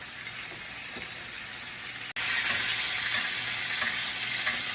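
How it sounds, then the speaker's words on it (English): Burger patties sizzle loudly in a frying pan on the stove, a dense, steady crackling hiss that continues throughout with one brief cut partway, and no talk over it. "Sizzle."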